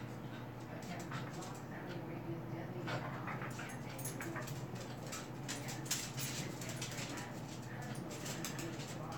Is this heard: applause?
no